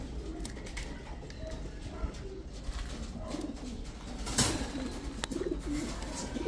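Ice pigeons, including black tiger birds, coo softly in a breeding loft, several low repeated calls under light background noise.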